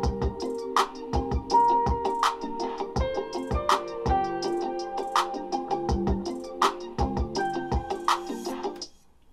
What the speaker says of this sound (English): And then all together so far with the loop and the drums, it sounds like this.